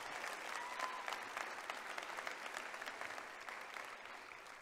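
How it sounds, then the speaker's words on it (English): At a high school graduation ceremony, a large audience applauds a group in a steady, crowded wash of clapping that slowly thins and fades, heard from some distance in a large hall. "Please give this group a round of applause."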